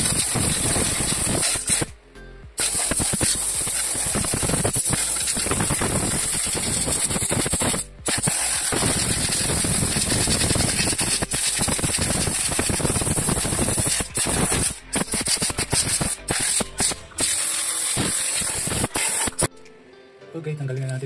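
An electric blower dries a surface with a loud, constant high-pitched rushing roar that breaks off briefly a few times, while a voice talks beneath it.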